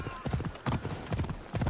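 Horse galloping in Assassin's Creed Odyssey, a steady rhythmic clip-clop of hooves at close range with a snort or whinny in the mix and a voice talking over it.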